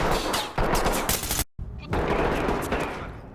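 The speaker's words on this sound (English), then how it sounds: "the way the gunshots echo inside small rooms" Rapid gunfire rings out and echoes inside small rooms in the tactical shooter Ready or Not, loud and sustained bursts with a brief silent break midway before the shooting resumes.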